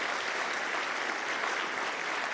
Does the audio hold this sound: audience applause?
yes